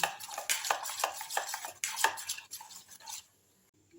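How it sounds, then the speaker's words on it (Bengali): Thick batter for cauliflower pakora being mixed with water, a rhythmic run of close stirring and scraping against a bowl that fades to quiet near the end. "আস্তে আস্তে করে একটু জল দিয়ে দিয়ে একটা ব্যাটার তৈরি করে নিচ্ছি"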